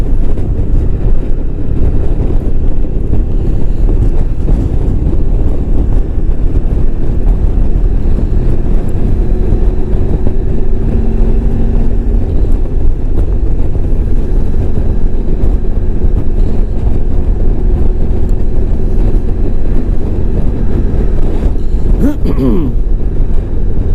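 A 1994 Honda ST1100 Pan European motorcycle being ridden, a steady loud drone of engine and rushing wind buffeting the microphone throughout, with a brief engine note change near the end.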